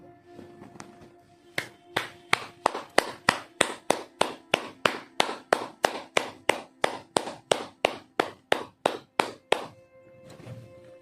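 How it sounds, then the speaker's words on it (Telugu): Meditation participants clap together in a slow, steady rhythm of about twenty sharp, evenly spaced beats that build slightly, then stop. A soft thud follows at the very end. "హృదయపూర్వకంగా చప్పట్లు"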